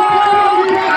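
A crowd at a local semifinal match, Ratanpur against Ajfar, keeps up a loud, continuous roar of applause and cheering, with a commentator's voice running over it.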